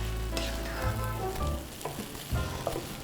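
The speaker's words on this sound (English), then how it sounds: "And mix it up so that the meat and rice is evenly distributed" Goat meat and rice being stirred in a hot pan, with a steady loud sizzle and intermittent scraping and clinks of the spoon against the pan, no voices.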